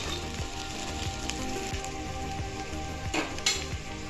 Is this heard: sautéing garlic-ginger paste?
yes